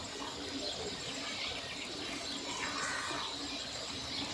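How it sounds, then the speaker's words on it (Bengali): Water poured steadily into a pan of potato curry, a continuous faint splashing and trickling wash that holds an even level throughout with no pauses and no voices. "এবার আমি জলটা দিয়ে দেবো, জল দিয়ে দেবো।"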